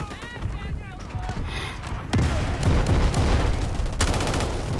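Weapon fire from the video game Delta Force Mobile, with a few faint zapping shots early and then a dense, loud burst of crackling gunfire that sustains to the end, someone talking over it.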